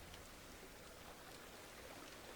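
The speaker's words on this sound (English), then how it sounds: "It's raining outside." Rain falls steadily outside in the farming game Farmer's Dynasty, a faint, even hiss of rainfall with no break and no voices.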